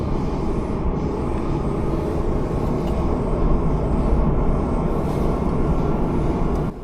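Steady broadband rumble and rolling rail noise inside an express train running from Heathrow Airport to central London, continuous and fairly loud throughout with no talking.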